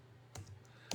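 A few quick, faint keystrokes on a computer keyboard, soft isolated clicks in a quiet room.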